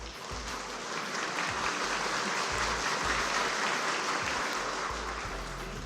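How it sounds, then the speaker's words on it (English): Steady audience applause at a school debate competition elimination round, dense and even, sustained for several seconds with no talk over it. "So round of applause for the schools that are participating today"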